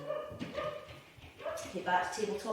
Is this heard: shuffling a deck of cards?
no